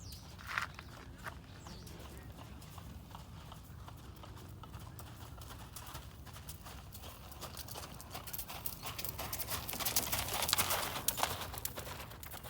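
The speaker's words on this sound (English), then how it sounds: "how she transitions from that to the canter." Hooves of a horse moving into a canter thud in a steady clip-clop rhythm at moderate distance, growing somewhat louder and busier toward the end, with a little bird chatter in the background.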